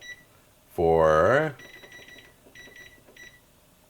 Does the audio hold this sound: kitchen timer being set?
yes